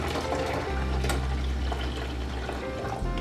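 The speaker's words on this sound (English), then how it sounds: "We're just going to pour this in our pitcher" Homemade Jamaican carrot drink pours into a pitcher in a steady, continuous liquid stream with a full, close wash of splashing that runs for about three seconds before tapering off.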